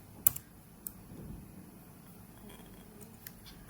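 Scattered clicks from a computer keyboard come in a few sharp, separate taps against a quiet room, with no steady typing rhythm.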